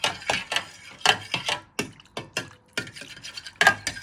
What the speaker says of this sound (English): So you're just giving these a good stir for a few minutes so they evaporate.